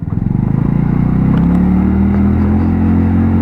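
An AJS Modena 125cc motorcycle being ridden, its small engine loud and close, puttering rapidly at first then settling into a steady droning hum as it pulls along.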